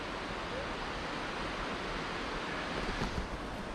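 Steady broadband rushing of water flowing down a pipe fills the whole stretch, constant and fairly loud, like water pouring through a channel nearby.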